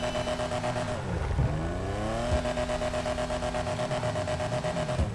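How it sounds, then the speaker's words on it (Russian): A Kuruma car's engine in GTA Online revs up and down repeatedly, its pitch sweeping high and falling back in steady surges. Loud and close, with no talking over it. "Ну и нельзя не упомянуть звук работы двигателя этого автомобиля."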